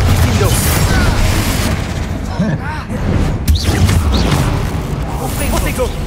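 Confringo fire spell blasts in Hogwarts Legacy, a string of dense bursting booms and crackles over continuous loud game action, with voices heard shouting amid the din.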